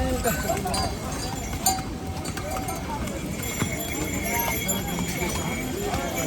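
Hooves clip-clop steadily on a mountain road on the Kedarnath trek amid a busy outdoor din, several horses walking at once with bells faintly jingling.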